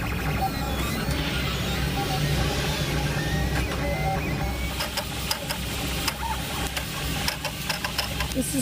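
A 3D printer prints a doorstop from spooled filament, a continuous mechanical whir with rapid stepper-motor chatter and ticking, fairly close and steady throughout.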